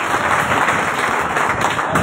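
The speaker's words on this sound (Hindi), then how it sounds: "जोरदार तालियां दीजिए।" Loud, dense clapping from an audience at an oath-taking ceremony for municipal council members, a brief continuous burst of applause.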